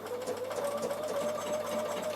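A Bernina sewing machine stitching a triple blanket stitch on wool appliqué, giving a steady, close, fairly quiet whirring hum with an even mechanical pulse, run slowly and without pause.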